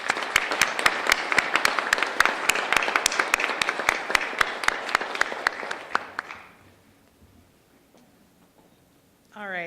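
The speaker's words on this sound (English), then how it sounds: "join me in giving a round of applause to our 100 employees" Audience applause at a college celebration of learning event, dense and even clapping for about six seconds that then stops abruptly, leaving near-silence with a faint voice beginning at the very end.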